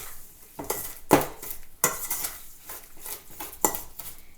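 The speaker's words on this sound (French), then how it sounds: "Maintenant, je vais bien mélanger encore une autre fois." Cookie dough of vegetable shortening and sugar, a chocolate chip biscuit base, is mixed in a bowl: a spoon scrapes and clinks against the sides in irregular close bursts, with no talking.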